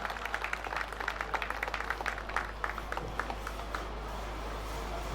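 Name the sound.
audience applause for performers at award function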